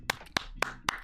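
Four sharp hand claps spaced roughly a quarter second apart, close and crisp, over a faint low hum with no talking.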